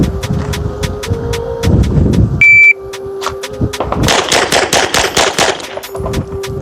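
During a pistol drill, a shot timer's electronic buzzer sounds once, a short sharp beep between bursts of loud, rapid pistol shots that crack repeatedly before and after it.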